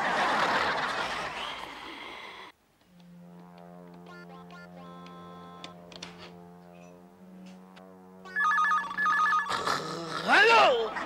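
A telephone rings steadily in repeated electronic tones, with voices and laughter breaking in at the start and near the end.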